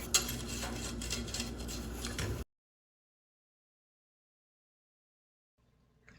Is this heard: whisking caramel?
yes